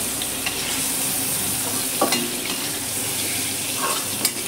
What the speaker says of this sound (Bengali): চিংড়ি মাছ ভাজা হয়ে গেছে, এখন উঠিয়ে নেব।